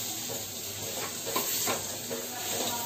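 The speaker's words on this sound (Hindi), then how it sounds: "अब इसमें हम प्याज डाल देंगे।" Onions added to hot oil with bay leaves and dried red chilies, frying with a moderate steady sizzle and a few soft stirring scrapes, fairly close and without talk.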